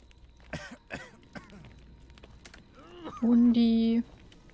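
A character in the horror game Maid of Sker coughs and clears his throat in a few short, raspy bursts, followed by a louder, sustained tonal sound near the end.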